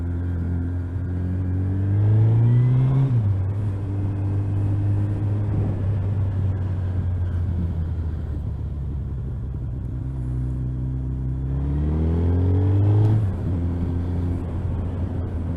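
A Suzuki GSX 1300R Hayabusa with an ABM handlebar conversion on a street test ride, its engine rumbling steadily and twice revving up in smooth accelerating sweeps before settling back to a cruising drone.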